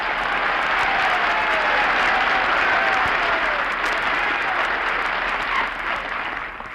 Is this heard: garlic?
no